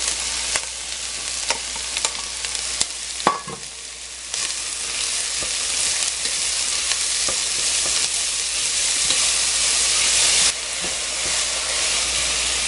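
Filling cooking in leftover vegetable oil in a pan, a steady close sizzle and frying hiss with occasional stirring clinks and scrapes, no talking.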